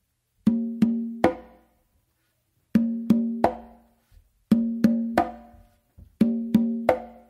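Congas playing a mambo tumbao, four bars of crisp open tones and slaps in a repeating syncopated pattern, close and clear with silence between each phrase.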